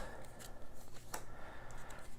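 Board game tiles shuffled by hand on a tabletop, a steady soft rustling and clacking with scattered sharper clicks running through the whole short stretch.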